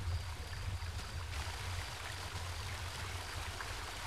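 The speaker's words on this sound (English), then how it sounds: "A path ended in a cold-looking river." A cold river flows steadily through a video game landscape, a soft continuous rushing of water heard alone at low level throughout.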